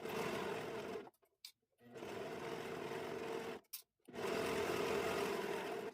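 A serger sewing fabric in three continuous close runs of steady whirring, separated by short pauses with small clicks.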